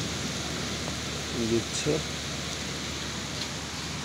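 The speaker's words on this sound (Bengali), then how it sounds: "অনেক বৃষ্টি হচ্ছে, আপনারা দেখতেই পাচ্ছেন" Heavy storm rain pours down steadily in the capital city as a continuous broadband wash, with a few brief voice sounds breaking in near the middle.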